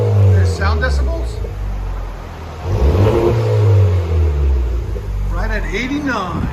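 A 2021 Honda Civic Type-R with a VR Performance titanium valvetronic exhaust revs loudly and close, the engine rising and falling in deep, rumbling pulls, with people talking over it.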